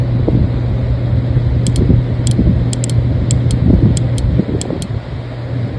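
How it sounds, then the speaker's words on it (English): The fuel pump relay on a Suzuki GSX-R 1000 clicks as it is energized, producing faint, sharp ticks, some in quick pairs, over a steady mechanical hum. "we're going to feel the relay click"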